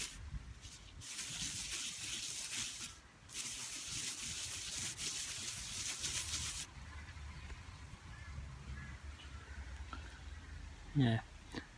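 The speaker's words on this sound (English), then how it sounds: "If you can rub hard enough to warm the rock, the polish will work better" Hand rubbing a soft rock to polish it, a steady broadband scrubbing that continues in long close strokes, easing after a few seconds into quieter rubbing with a brief louder knock near the end.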